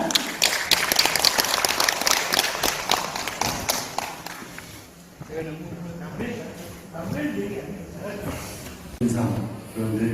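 Audience applause welcoming a lecturer at a ginseng industry forum, a dense burst of clapping for about five seconds that gives way to speech over a fading room.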